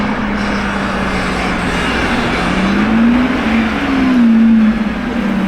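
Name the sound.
Lamborghini Revuelto hybrid supercar engine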